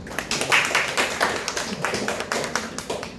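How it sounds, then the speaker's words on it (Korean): An audience at a presentation on machine-learning crop price prediction claps, giving a short burst of steady, scattered applause that continues for a few seconds without speech. "박수로 맞이해 주시기 바랍니다."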